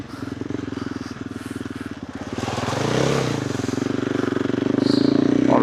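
KTM 390 Adventure R motorcycle with a Norifumi Whoops exhaust, heard as a close, loud, pulsing single-cylinder exhaust note that builds in a rev and keeps throbbing steadily.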